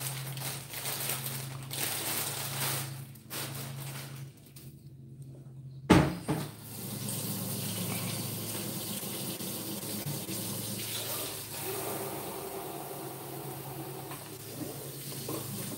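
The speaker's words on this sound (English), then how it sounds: "Sorry, the water's running." Kitchen tap water runs steadily into a sink while sweet potatoes are rinsed, with a sharp clunk near the middle, then the hissing flow continues at a moderate, close level.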